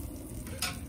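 Meat sizzles on a grill over coconut charcoal with a faint, steady crackle, swelling briefly as it is turned, with no voices.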